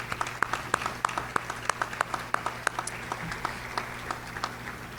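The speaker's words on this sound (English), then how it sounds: "let's give them a round of applause" Applause at a Chamber of Commerce luncheon, a modest gathering clapping with distinct individual sharp claps audible over a softer background patter, fading gradually, with a low steady room hum underneath.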